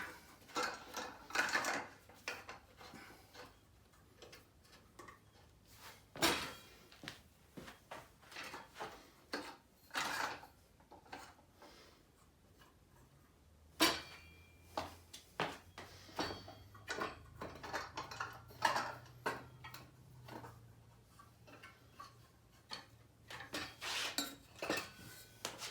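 Metal clanks, clicks and knocks of a Criterion Golden Field telescope tripod as its legs are lowered and locked, scattered irregular handling sounds close by with no talk.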